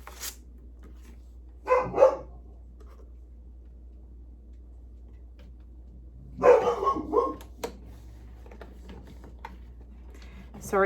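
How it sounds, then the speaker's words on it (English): Dog barking in a house, two short bursts of barks a few seconds apart, somewhat distant, over a faint steady hum with light tapping. "Sorry about the dog."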